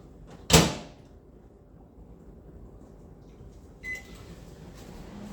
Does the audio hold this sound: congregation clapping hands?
no